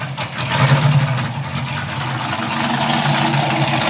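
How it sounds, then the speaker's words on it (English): A sand car engine turns over and catches without throttle, then settles into a steady rumbling idle through its exhaust, loud and close. "Let's see if we get it to fire up here without giving it any throttle."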